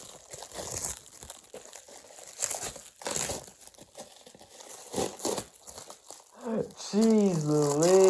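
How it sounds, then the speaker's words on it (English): Plastic wrap crinkles and tears as it is pulled off the canopy of a 1983 Casablanca Four Seasons ceiling fan, close and continuous, with a voice speaking near the end. "That is so much plastic wrap."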